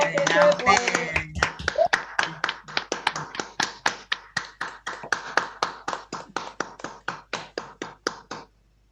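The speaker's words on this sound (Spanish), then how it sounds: "aplausos a Miriam, a Cerito, otra vez, a Quinto Elemento" A small online audience claps after a writers' collective reading, starting under overlapping voices and then settling into a steady run of close, distinct claps that slows and stops.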